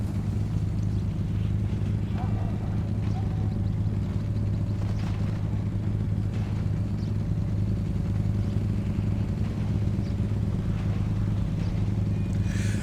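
Steady, loud engine drone of a Ducati Panigale motorcycle in GTA V, running continuously and evenly throughout with faint clatter and talking over it.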